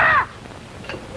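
A crow gives a loud caw at the very start, then only faint background sound remains, in a 1950 film scene set near the Mexican border.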